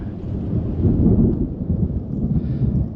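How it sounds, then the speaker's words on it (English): Steady heavy rain with a deep rumble of thunder rolling underneath, loud and continuous, some wind buffeting the microphone. "Here comes the rain."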